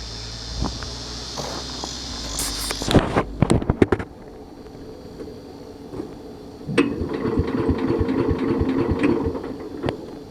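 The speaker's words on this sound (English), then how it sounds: "So we're going to do a quick little start up and drive of it and go around the yard." A Cub Cadet garden tractor cranks with rough, uneven bursts and clanks, falls briefly quiet, then catches and runs with a steady, rumbling engine chug close by.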